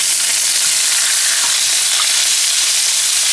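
Loud steady sizzle of quail searing in a hot pan just after being flipped, a continuous close hiss of frying fat with faint crackles.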